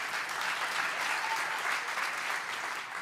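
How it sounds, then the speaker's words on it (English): A conference audience at an event claps in a dense, steady burst of applause that holds at an even loudness from start to finish, with no voices standing out. "Yeah, round of applause."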